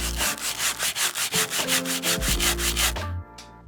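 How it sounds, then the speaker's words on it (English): Close, rhythmic sanding of a 3D printed part: quick back-and-forth rubbing strokes on a hard surface, steady and even, ending in a short pause and a lower scrape. "After a quick sanding, it's nice and flat"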